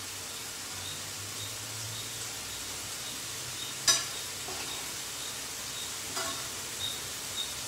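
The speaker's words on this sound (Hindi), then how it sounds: "आई एम श्योर आपको ये सिज़ल की आवाज़ आ रही है" Potatoes frying in a pan, a steady soft sizzle and hiss at low volume with a few sharp crackles and pops, no talking over it.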